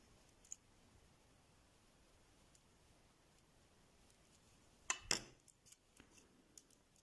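Scissors cut yarn after a double knot is tied, giving a couple of crisp close snips about two-thirds of the way through a very quiet passage, followed by faint scattered clicks and rustles.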